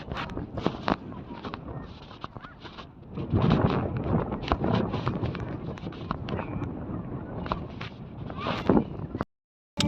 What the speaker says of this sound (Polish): wiatr wieje, bo jest tutaj otwarta przestrzeń